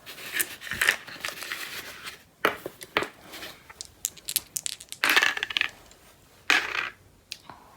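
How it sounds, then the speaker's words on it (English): Dice rattle and clatter across a tabletop during a Black Powder samurai wargame, in several sharp bursts of plastic clicks and tumbling with short pauses between rolls. "We'll do our saving throws. Let's pick up our dice."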